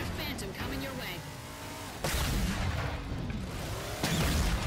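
A vehicle drives in the Halo Spartan Ops video game, its engine droning steadily with tire noise, sharp bursts of gunfire and explosions, and voices talking over the action.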